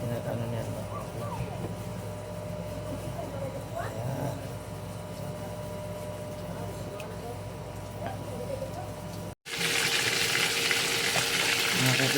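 Danggit fish frying in oil with ginger, a continuous crackling sizzle that cuts briefly and returns louder and hissier near the end, no voices.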